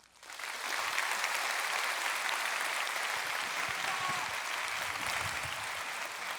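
An audience applauds after a public natural-science lecture on data and artificial intelligence, sustained clapping from a large indoor crowd that swells in quickly and holds steady, fairly even and moderately loud.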